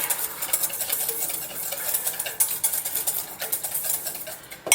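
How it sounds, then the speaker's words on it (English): A whisk beats vanilla and lavender into a creme brulee mixture in a bowl, rapid rhythmic metallic clicking and scraping, close and steady with no talk. "So whisk, whisk, whisk, whisk, whisk."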